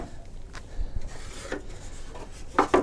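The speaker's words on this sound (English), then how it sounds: "this miter box with the saw." A hand saw draws through wood in a miter box, with a few short, close rasping strokes, the last two louder.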